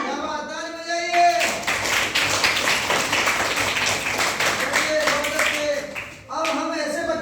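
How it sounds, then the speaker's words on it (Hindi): A classroom of students clapping their hands together in a loud, dense burst of applause lasting several seconds, with a voice speaking briefly at the start and again as the clapping ends. "ताली बजाइए।"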